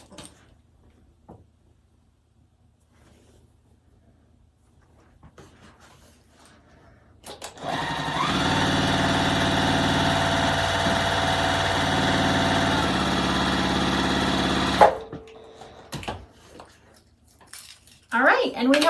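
A sewing machine stitches a quilt block in one steady, continuous run of about seven seconds. It is fairly loud and close, with quiet handling noises before and after, and brief speech.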